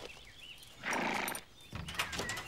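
Horse in an animated cartoon, a short burst of snorting and whinnying noise with a hoof clatter, fairly close and moderately loud, with a pause between two bursts and no talk.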